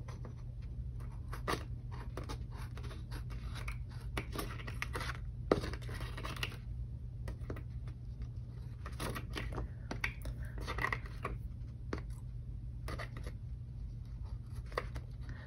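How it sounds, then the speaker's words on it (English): Repeated crisp snipping and cutting sounds, irregular bursts of scissors over a steady low hum, close and moderately loud. "Let's get my sharp scissors."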